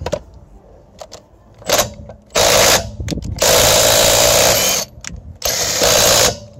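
A clone Makita 68-volt, 8000 mAh cordless impact wrench unbolting a nut: several loud bursts of rapid hammering, each lasting about a second, separated by short pauses, with no talking.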